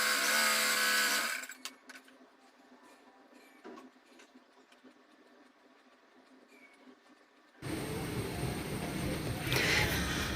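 Sewing machine stitching fabric for a six-month baby's top, a loud steady motor whir at the start and again at the end, with quiet handling clicks in between.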